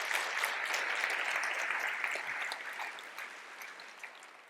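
Conference attendees applaud at an official opening session, steady mid-distance clapping that starts full and gradually thins and fades toward the end.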